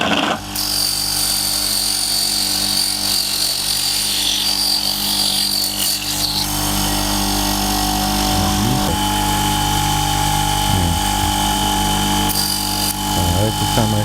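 A power tool trims the slightly curved edge off a board for a ship-model gangway, running as a loud, steady, continuous drone throughout with shifting pitch near the end, and a voice speaks over it.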